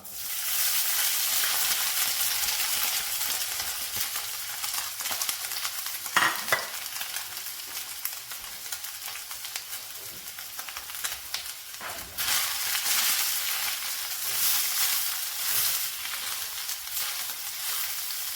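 Chicken frying with browned onions for a samosa filling, a long steady sizzle up close with scattered scraping stirs and a louder burst of spattering near the middle.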